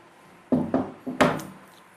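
Board eraser rubbing one side of a classroom board: four short, soft scuffing strokes, the last one brighter and harsher, close and fairly quiet with no talking.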